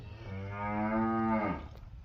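A cow in a village cowshed lets out one long, close, drawn-out moo that swells and then drops off, against a faint background hum.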